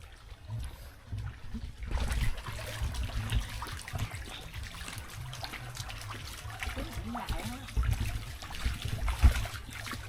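Shallow stream water at Suoi Tien in Mui Ne trickles and splashes around someone wading through it, a close, uneven burbling with occasional louder sloshes.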